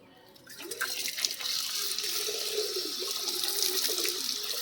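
Tap water starts and runs steadily into a bowl being washed in a sink, a close, continuous splashing after a quiet moment, with a few light knocks.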